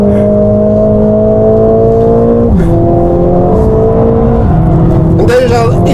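A Mercedes-AMG car accelerates hard on the Nürburgring, heard loud and close from inside the cabin. The engine holds a strong, steady drone, and its pitch steps down a couple of times as it shifts through gears.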